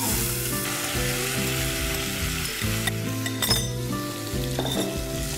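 Diced potatoes fry in oil with spluttering mustard seeds for a Maharashtrian dry aloo dish, a steady close sizzle with a few crackling bursts layered under background music.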